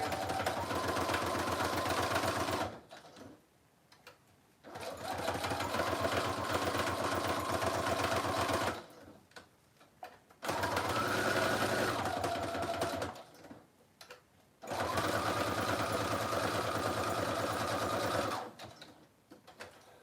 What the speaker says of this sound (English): And do a single stitch, go all the way around the border.